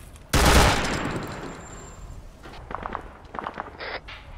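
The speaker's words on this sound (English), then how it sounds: "Where are those shots coming from?" A sharp, loud gunshot in Arma 3 rings out and decays, followed by a few fainter distant shots and scattered rattling noises, with no talking.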